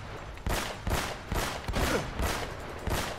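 Gunfire in Uncharted: Drake's Fortune, a rapid string of about seven loud, punchy shots in an irregular rhythm, heard alone.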